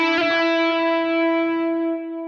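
A guitar note runs through a Keeley Halo dual echo pedal, ringing out with a rich sustained tone and shimmering repeats that fade gently over a couple of seconds, with no talking.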